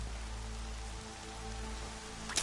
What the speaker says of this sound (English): That is rain, actually.